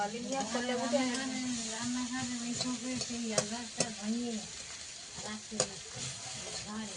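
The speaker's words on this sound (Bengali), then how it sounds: "পেঁপে আর মাছ তরকারির জন্য পেঁপেটাও কষানো হয়ে গেছে" Papaya sautés in a pan for fish curry with a soft, continuous sizzle and the scrape of stirring, while a voice carries on steadily underneath and a few sharper clicks land near the end.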